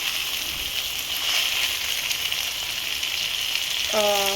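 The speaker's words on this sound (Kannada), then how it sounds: "ಅಲ್ಲಿ ತನಕ ಇದನ್ನು ಹುರ್ಕೋತಾ ಇರಬೇಕು" Bitter gourd frying in a pan with oil, a close, steady sizzle with faint stirring scrapes, ending in a short tonal beep.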